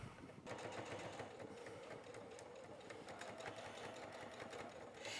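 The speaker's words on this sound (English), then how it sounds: "So I'm actually gonna stitch here, Erica, 1/4 of an inch all the way down." A sewing machine stitches through quilt layers, running steadily and continuously at close range after a brief start, with no talk over the mechanical whir.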